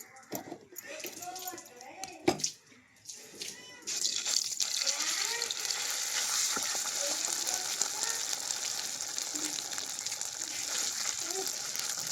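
Coconut roti frying in a thick heavy pan, a steady close sizzle that swells and holds loud after the first few seconds, with someone talking over the start.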